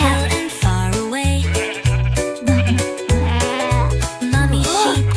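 Sung nursery rhyme with a bouncing bass beat, in which a voice imitates a mother sheep's bleating with wavering, repeated cries over the music.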